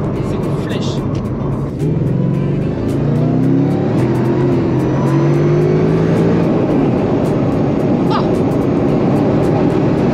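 A Mercedes SLR engine roars loudly and continuously nearby, its pitch sweeping up through the gears, with someone talking excitedly over it.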